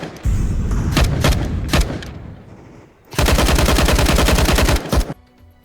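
In Counter-Strike 2, a decoy grenade imitates gunfire with loud bursts of rapid automatic shots in two clusters, the second denser and longer, close and alone without talk.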